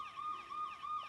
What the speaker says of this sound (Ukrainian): Це сирена пожежної машини.